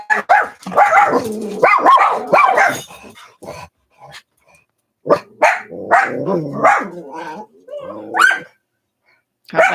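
Dog barks break out in several bursts between and over stretches of talking, loud and close, with a couple of short yips.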